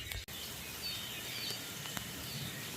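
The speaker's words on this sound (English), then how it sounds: "Listen to these birds up here." Birds chirp faintly up in the trees on a rainy morning, with small scattered calls over a steady hiss of rain.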